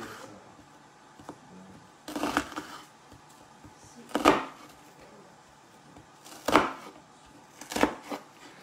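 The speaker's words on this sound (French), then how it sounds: "On coupe un demi-oignon. On le coupe sur la largeur." A knife chops half an onion on a cutting board, giving several loud, crisp strokes at irregular intervals over a quiet kitchen background.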